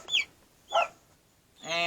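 Columbian Wyandotte chick in a brooder giving three sharp, high peeps, spaced apart and fairly faint, with quiet gaps between.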